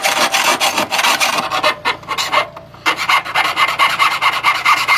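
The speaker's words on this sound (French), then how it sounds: "Le mec est essoufflé à faire de la scie à métaux quoi." A hacksaw rasps back and forth through a metal bicycle handlebar tube in steady, rhythmic strokes, close and loud, pausing briefly mid-cut before the sawing resumes.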